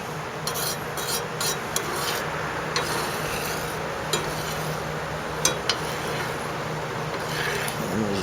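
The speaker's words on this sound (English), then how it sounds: "each time we stir this, we're going to scrape the bottom." Spoon stirring a pot of molten lead wheel weights, a steady rough scraping and rasping against the pot bottom with occasional light metallic clicks, close and continuous with no talking.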